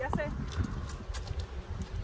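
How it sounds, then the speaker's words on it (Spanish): A horse walks in Egypt, its hooves giving soft, irregular clip-clop thuds under nearby talking voices and outdoor background noise. "Pero aquí no puedes correr con el caballo."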